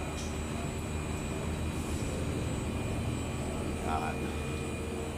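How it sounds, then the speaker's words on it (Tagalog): A newly installed Samsung split-type air conditioner's outdoor unit runs with a constant, even mechanical hum and whir. The sound is steady and moderately loud throughout. "tingnan natin yung outdoor unit kung maandar na"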